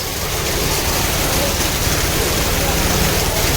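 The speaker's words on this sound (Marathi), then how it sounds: "तर खूप मोठा पाऊस आलेला आहे इथे पाऊस" Heavy rain falling at Trimbakeshwar, a dense, unbroken hiss that stays loud and even throughout.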